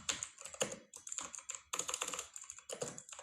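Close keystrokes on a keyboard while React function component code is typed, coming in quick clustered bursts separated by brief pauses, crisp and clicky with no voices.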